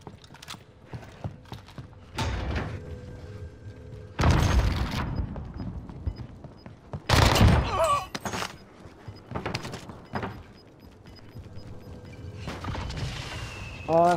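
Gunfire and explosions from the Call of Duty Warzone video game, in a firefight with a Marco 5 setup: several loud, broad bursts land in clusters, with quieter mechanical clatter and game noise between them.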